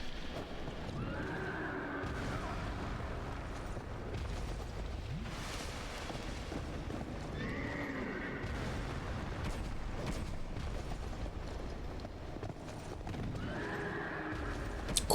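In the video game Dark Souls, a horse neighs loudly three times at spaced intervals over a constant heavy rumble of hoofbeats and low booming background noise.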